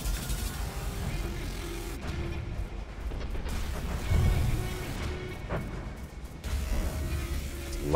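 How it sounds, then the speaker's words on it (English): Heavy explosions and artillery fire from a naval battle in the game From the Depths, a dense, continuous low rumble of blasts and booms with no clear gaps between them. "Lot of explosions."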